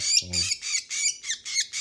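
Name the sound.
African lovebird squawking while being fitted with a leg ring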